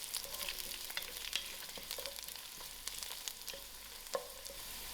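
Green chilies and curry leaves fry in hot oil with a steady crackling sizzle, broken by sharp pops and occasional stirring scrapes, close and continuous with no voices.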